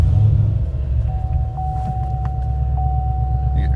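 Chevy SS sedan idling steadily after startup with the hood open, a low even engine rumble close by, a faint chime ringing over it.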